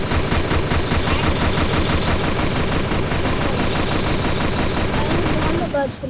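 Sustained rapid automatic gunfire in a shooting video game, dense rhythmic bursts of shots firing continuously at close range before cutting off abruptly at the end.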